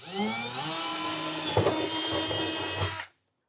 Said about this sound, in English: drill straight up through the bed